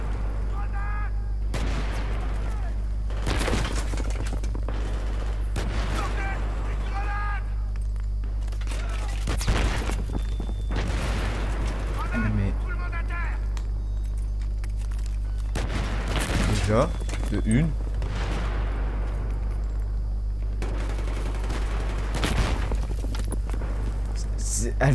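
Explosions and gunfire in Battlefield 3, repeated heavy booms and bursts of shots at irregular intervals over a constant low rumble, with someone talking over much of the action.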